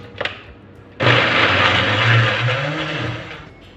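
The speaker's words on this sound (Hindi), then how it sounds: "बस ये इस तरीके से कीमा डालूँगी थोड़ा थोड़ा करके और इसको ग्राइंड कर लूँगी।" Electric grinder running loud and steady as minced meat (keema) is ground with spices, starting abruptly after a brief faint knock and whirring continuously with slight shifts in pitch before easing off.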